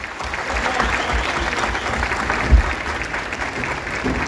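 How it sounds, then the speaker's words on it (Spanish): A crowd at a Resistencia 145th anniversary event applauds dancers, a steady wash of clapping from many hands held at an even level, with one brief thump partway through. "Un fuerte aplauso, por favor"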